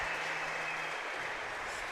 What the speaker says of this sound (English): A round of applause for the live music